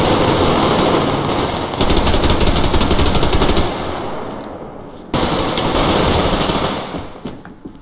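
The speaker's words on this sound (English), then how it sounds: "Who the fuck is shooting me?" Rapid automatic gunfire in the video game Survarium, loud and close, coming in two sustained bursts separated by a brief pause and tailing off at the end.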